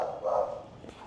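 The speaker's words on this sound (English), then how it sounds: "you hear the dogs" Dogs bark briefly on a residential street in the Philippines at night, a short burst at moderate distance with no talking.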